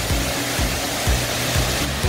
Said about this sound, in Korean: 북한산 송추폭포입니다